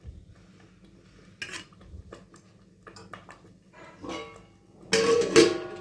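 A lid goes onto a pot of finished khichdi with ghee and garam masala, a few light clinks of metal that end in a sharper clatter against quiet kitchen background.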